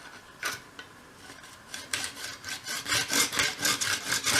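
A small hand saw cuts a mitre through a miniature 1/12th scale skirting board held in a mitre block, starting with a few tentative strokes and then settling into a quick, regular rasping rhythm, close up.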